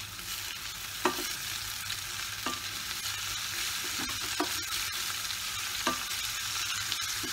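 Chopped red capsicum stir-frying in masala for a vegetable bajra millet pulao, a steady close sizzle with a spoon scraping the pan at intervals, no talking.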